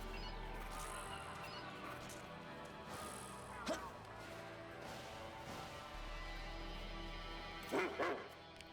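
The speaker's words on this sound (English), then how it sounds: "Dog." A dog barks a few times, first a single sharp bark and then a quick pair, fairly faint against a continuous bed of music and game sounds.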